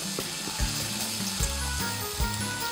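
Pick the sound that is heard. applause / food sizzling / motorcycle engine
food sizzling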